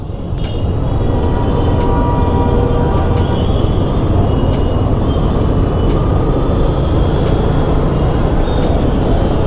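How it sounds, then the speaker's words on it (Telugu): Evening road traffic under the KPHB metro line in Hyderabad, a loud, dense and continuous roar of passing vehicles with engine drone, steady throughout, and occasional faint horn-like tones above it. "ఇది కేపీహెచ్పి మెట్రో కింద ఎంత ట్రాఫిక్ ఉంది చూడండి"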